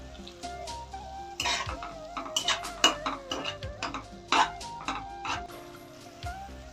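Tuna fish pieces tossed into a pan and fried, with repeated clinks and scrapes of a utensil against the pan over a low sizzle, close and fairly busy throughout.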